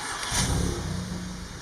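A Volkswagen MK7 GTI is powered on and its engine settles into a running hum, with a brief surge near the start, close by and alone without voices.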